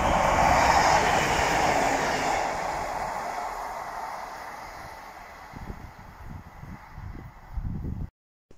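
A train on the Midland Main Line at Attenborough rumbles past, loud at first and then slowly fading as the wheels clatter away, before the sound cuts off abruptly.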